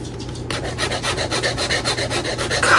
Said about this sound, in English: couple little places need to be sanded down, but not much at all